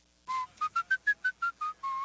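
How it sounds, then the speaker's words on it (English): A champion whistler whistling a short tune: nine clear, bright notes in a quick rhythm, the first and last held longer, close and alone in a quiet room. "a man who likes to whistle while he works"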